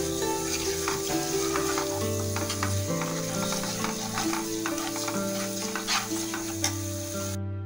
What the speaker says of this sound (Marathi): आपला मसाला जो आहे तेलामध्ये छान फ्राय करून घ्यायचा आहे